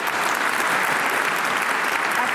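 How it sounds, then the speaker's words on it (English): An audience in Oslo applauds, a steady dense wash of clapping that stays loud and even from start to finish, no voices over it. "applause here from the audience in Oslo."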